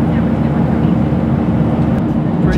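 Airliner cabin in flight en route to New York: a constant broadband engine and air roar, steady and enveloping, with no distinct events.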